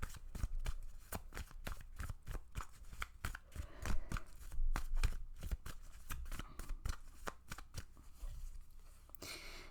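Tarot cards riffle and shuffle in a steady run of crisp, rapid flicks and taps, close and fairly loud, with no voices over the sound.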